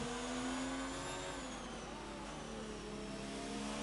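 An F2 race car engine in a sim racing game drones at a steady high pitch under throttle, a constant loud whine with slowly shifting tone and no break.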